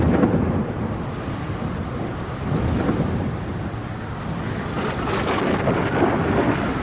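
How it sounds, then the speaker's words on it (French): Low, rolling thunder rumbling through a storm at sea, a continuous dull roar that swells and eases, mixed with wind noise and no voices. "le ciel se charge de nuages, le tonnerre gronde."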